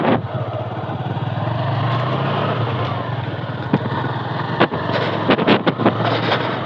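A motorcycle rides through fog on an early morning, its engine droning steadily up close, mixed with wind rush and a few sharp bumps toward the end.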